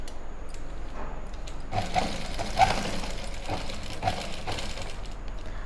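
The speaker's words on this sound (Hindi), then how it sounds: "इसके बाद में सिलाई स्टार्ट करेंगे।" Sewing machine stitching lined pants with the pant and lining fabric held together, a steady mechanical whir running through most of the stretch with brief surges, moderately near and alone without talk.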